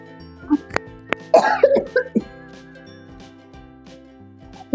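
A child coughs in a kitchen, several short harsh bursts close to the microphone, with a cluster of coughs in the middle and quiet pauses around them.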